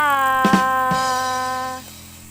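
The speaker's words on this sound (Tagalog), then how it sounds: "Mga friends, buti na lang umandar ang grass cutter." A grass cutter engine runs on a rural farm in a steady, loud, buzzing drone with a couple of sharp knocks early. The pitch holds steady, then drops off near the end.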